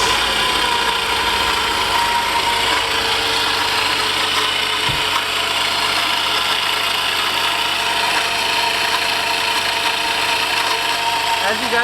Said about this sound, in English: the pulley is making a lot of noise. I'm having to talk up. This thing is really loud.